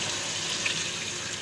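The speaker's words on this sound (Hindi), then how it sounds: "इसमें तकरीबन हम 2 गिलास पानी ऐड करेंगे इसमें" Roughly two glasses of water pour into a pot of browned meat for Delhi-style palak gosht, a continuous splashing, hissing rush close by without any talk.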